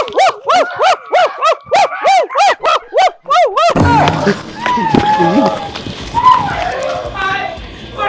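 A dog barks rapidly about ten times in a steady rhythm, loud and close, then a noisy jumble of voices and scuffling follows.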